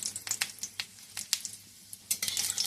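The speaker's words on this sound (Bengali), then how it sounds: "তেলটা গরম হয়ে গেছে। এর মধ্যে দিয়ে দেবো একটু শুকনো লঙ্কা," Dried red chilli dropped into hot oil in a kadai sizzles and crackles close up, with sharp popping bursts over a low hiss and no voices.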